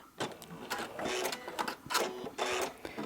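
A sewing machine stitches seams in several bursts with brief pauses, a steady mechanical whir near and loud, with no talking.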